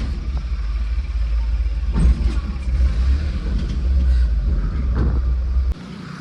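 A car engine hums steadily with low rumble and wind buffeting, a couple of brief rises as it moves off, then cuts to a quieter tone near the end; no talking.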